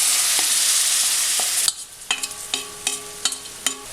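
Cut mango drops into chili powder frying in a pan for an instant mango pickle: a loud, steady sizzle cuts off abruptly into quieter crackling, punctuated by sharp, regular clinks of a spoon stirring.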